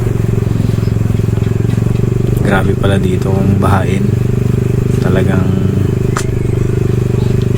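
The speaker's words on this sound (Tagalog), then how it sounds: "XSR ang ating motor palag-palag yan." A Yamaha XSR155 Scrambler motorcycle being ridden near Caliraya Lake after a typhoon, its engine droning steadily and loudly throughout while a rider talks over it.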